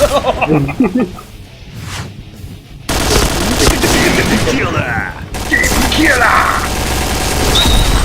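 Gunfire from the Point Blank online shooter, played PS2-era style, bursts in dense, loud volleys after a quieter opening, with someone talking excitedly over the shooting.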